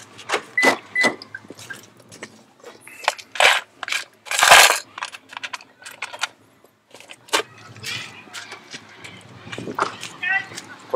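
Coins clink and drop into a payment slot at an annual festival in Kuriyama, Japan, as several short metallic jingles and clatters break up lively nearby conversation.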